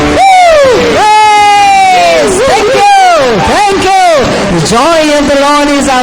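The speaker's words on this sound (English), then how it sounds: "Shall we give the Lord an applause?" Church congregation answering a call to applaud the Lord with loud cheering, whoops and yells over clapping, a dense, close crowd roar that stays strong throughout.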